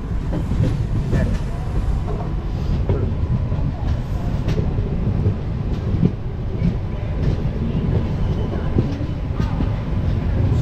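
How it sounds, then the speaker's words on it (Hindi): A train rumbles and clatters at SMVT railway station in Bengaluru, a dense, continuous low roar with wheel and track noise and scattered clanks, loud and close throughout. "हम लोग फाइनली पहुंच गए हैं S M B T station Bengaluru ये मतलब बेंगलुरु का नया स्टेशन है रेलवे स्टेशन"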